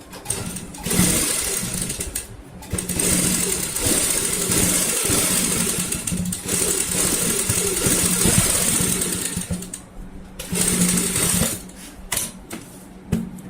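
A sewing machine stitches cushion cover fabric up close, its rapid mechanical whirring running in long bursts separated by brief pauses.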